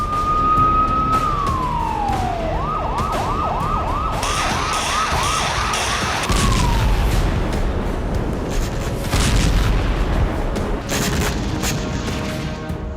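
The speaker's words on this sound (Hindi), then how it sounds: "अलर्ट का सायरन गूंजा।" An air raid alert siren in Ukraine first holds a steady tone, then falls and warbles rapidly before dying away, followed by rumbling street noise and scattered bangs.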